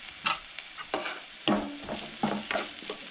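Onion and mixed vegetables for rice-flour vegetable cutlets stir and sizzle in a pan, with a spoon scraping and clinking in a few quick strokes against a steady frying hiss, close up and without speech.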